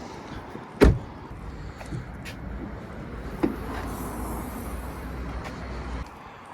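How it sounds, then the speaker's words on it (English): The bonnet of an Audi S4 B8 is popped with a sharp metallic clunk, followed by a second, softer knock, outdoors over steady traffic noise. "So we'll go ahead and pop the bonnet."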